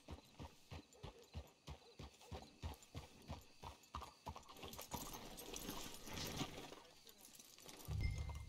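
Horse hooves clip-clop in a steady rhythm in the video game Red Dead Redemption 2, then fade into rustling and movement, with a low rumble at the end.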